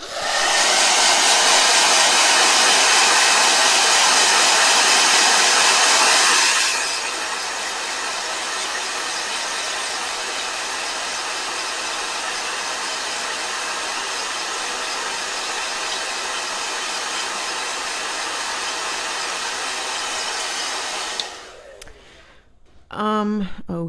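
A blow dryer runs loud and steady as a broad whooshing roar, dropping to a slightly lower setting partway through, then cutting off near the end as a voice begins speaking.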